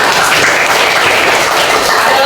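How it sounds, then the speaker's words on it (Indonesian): A classroom of students bursts into dense, continuous applause, a loud wash of clapping hands that fills the whole moment. "Oke, bagus. Tepuk tangan."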